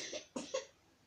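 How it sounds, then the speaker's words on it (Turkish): A child coughs three times in quick succession, short and fairly close, with a skateboard session going on around it. "Öksürme ama."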